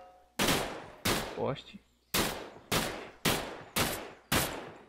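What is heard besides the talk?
gunshots in the video game Raised in Oblivion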